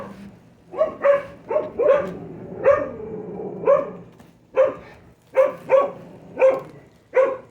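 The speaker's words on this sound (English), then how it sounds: "Sorry for my neighbor's dogs, they're barking too much." A neighbor's dogs bark repeatedly nearby, about a dozen sharp barks in an irregular rhythm, loud and clear against a quiet background.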